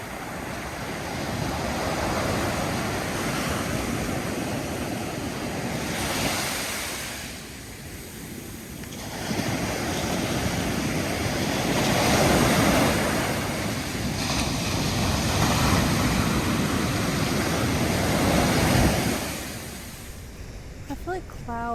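Ocean waves roll onto a beach in slow repeating surges, each swelling and washing back every few seconds, with steady wind buffeting the microphone and no talk over the surf.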